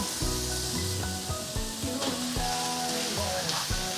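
Rice stir-fried over high heat with carrot, cabbage and corn, giving a steady sizzle broken by scraping, tossing strokes of a spatula in the pan, close and fairly loud, with background music and no talk.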